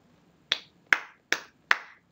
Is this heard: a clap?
yes